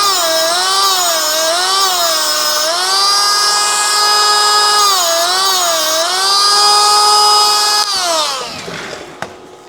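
A tungsten electrode sharpener grinds a welding tungsten with a loud, steady high whine that wavers in pitch as the electrode is worked, then spins down and fades near the end; no talking.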